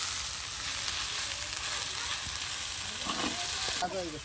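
Moringa leaves fry with dried chillies in a pan, a continuous close hiss of sizzling that holds steady throughout, with a few soft clinks of stirring near the end.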